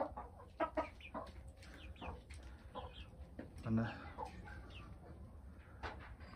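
Several chickens cluck softly and intermittently, with a faint rooster call among them and a quiet farmyard background.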